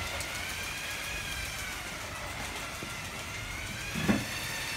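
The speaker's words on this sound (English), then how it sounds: "Definitely makes a noise, that nine volt train, doesn't it? Whizzing around like that." A small 9-volt electric motor whirs steadily, a continuous buzzing hum as a Lego City toy train circles its track, with a brief knock near the end.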